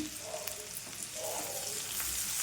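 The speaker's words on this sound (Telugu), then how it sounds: "ఒక నాలుగు వెల్లుల్లి రెబ్బలను అయితే వేసుకుందాం మంచిగా వేయించుకోవాలండి ఇందులో కొద్దిగా పసుపు వేసుకొని వేయించుకోవాలి" Garlic cloves fry with turmeric in a pan, a soft, quiet sizzle that swells slightly toward the end.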